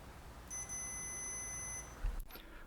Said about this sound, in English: So you want to hear the beeping sound, but maybe not so much all of the ambient noises